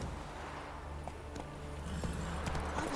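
Hoofbeats of Roach, Geralt's horse in The Witcher 3: Wild Hunt, a steady clip-clop at a slow walk over a low constant ambient hum, moderately near with no talking.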